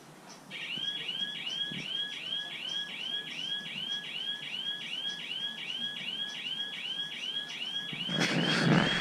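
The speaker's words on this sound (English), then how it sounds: "Sounds like a fucking company alarm going off or some shit, like a building alarm." A building alarm sounds continuously, a rapidly repeating electronic warble that keeps a steady rhythm, with a burst of nearby noise at the end.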